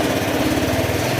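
Motorcycle engine in a repair shop being tuned for misfiring, running loud and close with a fast, rough, pulsing idle.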